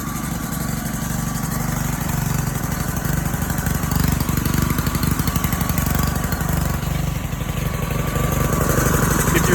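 A pressure washer's small gasoline engine runs continuously, a loud, steady, rattling putter close by with no pauses.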